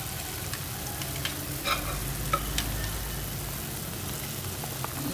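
Salmon head porridge ingredients sautéing in a pan, steady close sizzling with occasional scrapes and clicks of stirring, no talking.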